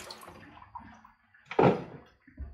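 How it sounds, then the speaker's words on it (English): Tomato pulp and water are poured into a strainer, a close splashing gush that swells briefly to a loud burst before trailing off, with lighter trickling and drips around it. "So I'll just pour that into this strainer."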